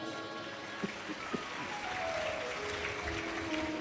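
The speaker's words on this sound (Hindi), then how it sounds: "एक बार जोरदार ताली बजाओ" An audience at a live Shiv Mahapuran katha gathering led by Pandit Pradeep ji claps together, a steady wash of many hands heard from a distance and at low level, with a couple of sharper claps near the start.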